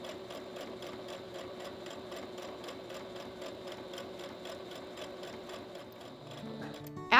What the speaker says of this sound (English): Fold them in half, lengthwise, right sides together, and pin. Stitch along the long side.